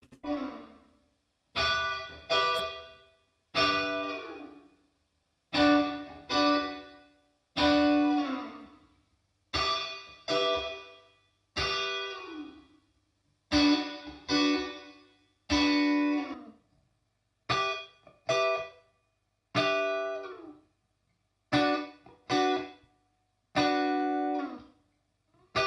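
A Waves Abbey Road Chambers reverb plugin runs through its three chamber types on a repeated short phrase, each burst trailing into a different reverb tail, clear and dry-to-wet in regular separated bursts with no talking.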